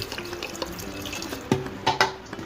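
Stored sour brine left over from salted mango and turmeric pickling is poured over garmar for a Gujarati pickle, a close, splashy pour with a few sharper splashes toward the end.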